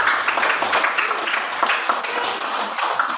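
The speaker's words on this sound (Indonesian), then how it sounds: "Tepuk tangan untuk kelompok 2." Classroom of students applauding a group, a loud, lively burst of many hands clapping with uneven rhythm, close and continuous, with faint voices mixed underneath.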